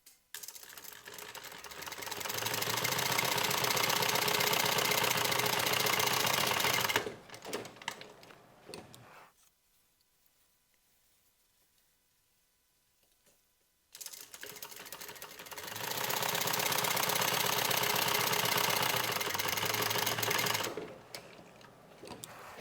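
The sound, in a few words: sewing machine top stitching bag lining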